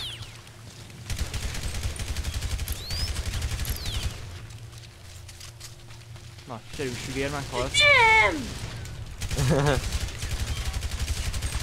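Gunfire crackles in the video game GTA Online in rapid repeated bursts, while players talk and shout excitedly over it.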